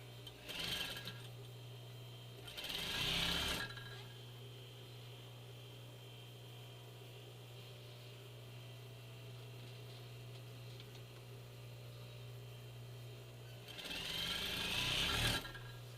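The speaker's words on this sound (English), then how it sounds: "Those seams will be locked down with the top stitch." A sewing machine top-stitches the seams of a fabric medical mask in three short bursts, one near the start, one around three seconds in and a longer run at the end, with a steady mains hum between the bursts and no talking.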